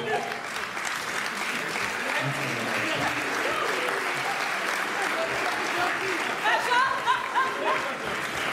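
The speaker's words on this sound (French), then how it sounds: "On peut l'applaudir très fort." A live audience at a comedy show applauds loudly and continuously, a thick wash of clapping that swells near the end, with a few chuckles and voices scattered through it.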